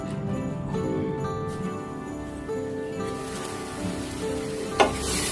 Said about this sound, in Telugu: బాగా వేయించుకుందాం పచ్చివాసన పోయేంత వరకు వేయించుకుందాం